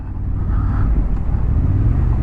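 A 2023 Honda CB750 Hornet with a parallel-twin engine drones steadily while being ridden, giving a loud, constant low rumble with wind roar across the whole stretch and no break.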